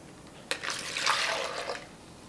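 Fruit punch made with real fruit juice is poured from a measuring cup into freezer bags, a brief close liquid gush that starts abruptly, swells, then tapers off within about a second and a half.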